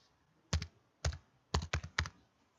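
Keystrokes on a PC computer keyboard, about seven quick clicks in three short bursts, close and fairly quiet with no speech.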